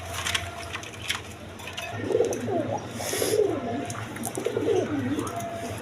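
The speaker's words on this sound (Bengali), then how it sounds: "দর্শক এখানে এক পেয়ার ইন্ডিয়ান বোম্বাই কবুতর আছে, রেড কালারের মধ্যে দেখেন, কোয়ালিটি সম্পন্ন কবুতর" A pair of red Indian Bombay pigeons at a breeding farm coo in three rhythmic, throaty bursts at close range over a steady background hum.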